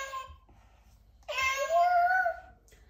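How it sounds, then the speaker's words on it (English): A cat meows in a cartoon scene, a short faint call followed by a longer, louder drawn-out meow with a falling then rising pitch, heard clearly in an otherwise quiet setting. "Cat."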